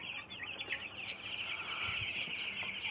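Broiler chickens cluck and chirp on a poultry farm, a busy, close chorus of overlapping calls.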